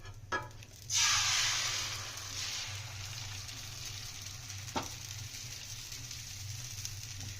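Chakuli pitha batter fries in oil with a soft, steady sizzle that swells after a brief tap and then holds as a faint, even hiss near the pan, broken once by a small knock.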